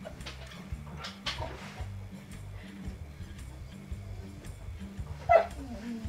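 A dog barks and whimpers in short, uneven bursts over a steady low rumbling background, with one louder yelp near the end.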